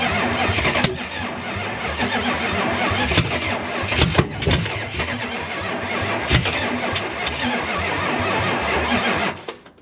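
A Chrysler 440 big block V8 in a Chrysler Newport engine swap cranks and fires unevenly, with loud continuous churning, sputtering catches and brief bursts before it cuts out at the end.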